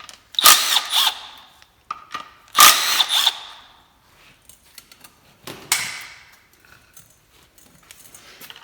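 A power tool removes two 10mm bolts from the timing cover plate of a Toyota 1ZZ-FE 1.8L engine, making two loud whirring bursts, then a shorter third burst and faint metallic clinks, all close up.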